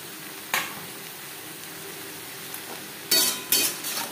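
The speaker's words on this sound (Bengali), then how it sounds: "পেঁয়াজের সাথে ধুনুল বেশ ভালো করে মিক্স করে দেব।" Onions and sponge gourd fry in a pan on a gas flame, a soft continuous sizzle broken by several sharp spatula scrapes and clatters against the metal as they are stirred together.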